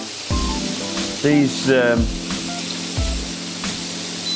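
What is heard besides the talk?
pork chops deep frying in oil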